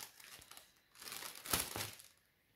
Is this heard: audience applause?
no